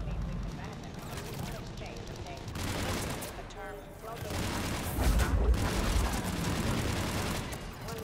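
Lancer assault rifle firing in Mass Effect 3, dense bursts of rapid shots with booming impacts and battle noise, loud and sustained, with voices talking over the fighting.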